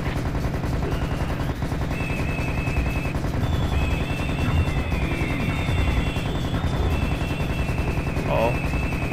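In Serious Sam: The First Encounter, a scorpion enemy fires a rapid, continuous stream of gunfire, dense and loud, mixed with game effects and high whines throughout.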